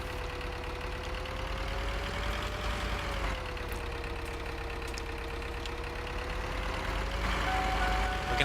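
A farm tractor engine in the video game Farming Simulator 2013 idles and putters in a steady, moderately loud drone, its pitch drifting slightly as the throttle shifts, much like a small gas-powered cart.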